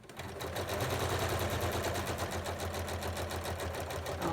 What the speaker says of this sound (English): then I'm going to keep sewing